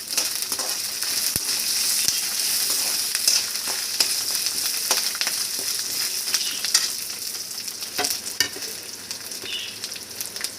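Urad dal, ten garlic cloves and six dried red chillies frying in hot oil for curry leaf thovaiyal, a loud continuous close sizzle with scattered crackles and stirring clatters, no talking.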